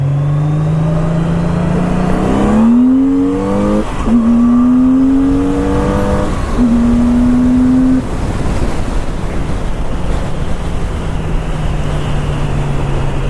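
Electric Rune motorcycle pulling away in first gear, a steady rising whine that climbs in pitch in stages over a loud continuous rush of wind and road noise, close and without talk.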